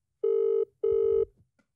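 A telephone rings twice on an outgoing call, two steady electronic tones of about half a second each separated by a short gap, clear and close with nothing else behind them.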